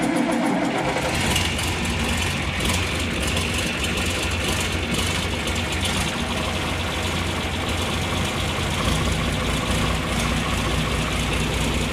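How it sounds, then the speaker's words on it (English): A vehicle engine fires up with a key turn and push-button start on a mild day, then settles into a steady, close, even idle that runs throughout with no talking. "Down here you just turn the key and you push this button right here and she should fire right up."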